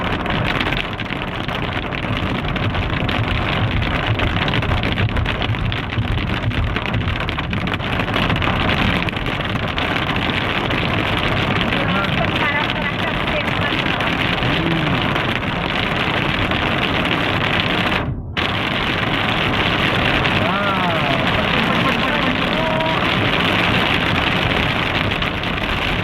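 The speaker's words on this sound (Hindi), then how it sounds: "वहाँ देखो इतनी तेज बारिश है, बिल्कुल खत्म।" Heavy rain with big, fat drops pounds down around a vehicle on a drive to HAL Road, making a dense, loud, steady roar and hiss that continues unbroken with no voices.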